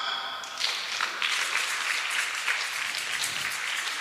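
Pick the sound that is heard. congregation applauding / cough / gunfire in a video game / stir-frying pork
congregation applauding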